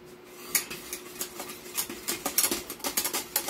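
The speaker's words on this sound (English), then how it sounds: "all I gotta do is mix it in with my wire whisk" A wire whisk mixes a pinch of cayenne pepper into a sauce in a bowl, a quick run of rhythmic metallic clicks and soft scrapes that grow busier and steadier toward the end.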